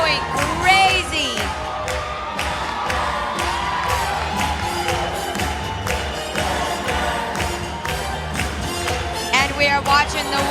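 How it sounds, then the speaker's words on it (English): Crowd at the 2019 World Pro Latin Championship cheers and whoops continuously through a cha-cha, with loud, dense shouting and scattered high whistles and calls rising above the roar. "the crowd is going crazy"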